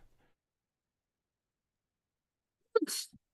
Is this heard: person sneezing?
yes